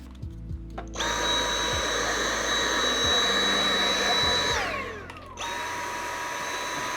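A power drill bores through a homemade photo box, its motor whining at a high steady pitch, winding down and stopping briefly, then starting up again close by.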